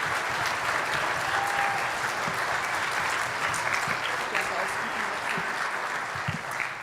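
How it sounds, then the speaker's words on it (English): A school auditorium audience at a middle and high school orchestra concert applauds the bass players with sustained, full clapping, even and dense throughout, while faint talk murmurs beneath it. "So a big round of applause for the bars."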